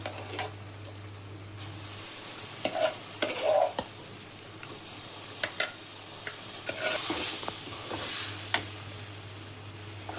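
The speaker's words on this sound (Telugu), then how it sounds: "ఇప్పుడు ఇలా కలుపుకోవాలండి మొత్తం." Cooked pongal is mixed with curry leaf powder in a pan, with a continuous scraping stir, soft sizzling and occasional clinks of the ladle against metal, close and without talk.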